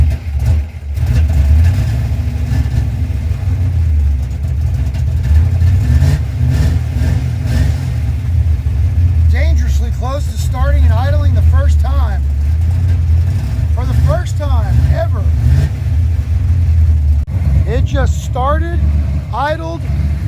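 A carbureted old Ford Mustang with custom flow tubes and tailpipes idles with a loud, close, rough low rumble and revs up several times, while people talk over the engine in the later part.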